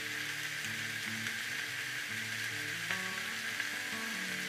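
Onions sizzle and sauté in a cast iron pan, with bacon and pancetta in the mix, giving a steady close crackling hiss throughout while faint tonal background music plays underneath.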